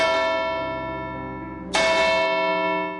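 The church bell in the clock tower of St Anne's Church, Limehouse, rings out twice, each strike a bright clang that sustains into a long ringing hum and slowly decays.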